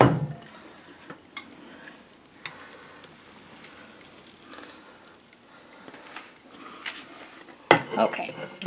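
Spoon bread batter is scraped out of a tilted pot into a baking dish, with soft spoon scrapes and occasional sharp metallic knocks against the rim, plus a loud clatter near the end.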